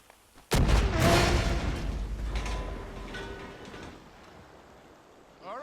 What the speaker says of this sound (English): Look at that, that explosion.